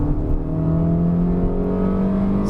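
A Peugeot 3008 SUV engine revs steadily under acceleration in manual mode, a loud continuous drone with engine tones slowly climbing in pitch over a couple of seconds, no gear change heard.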